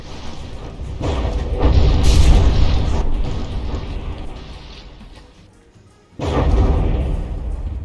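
A battleship turret in the From the Depths naval combat game is struck by cannon fire, producing two loud, deep booming impacts with rumbling tails separated by a quieter lull.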